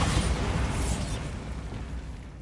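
A Bombarda blasting spell goes off in Hogwarts Legacy, a loud, close explosion with a sharp burst that rumbles and gradually fades over about two seconds.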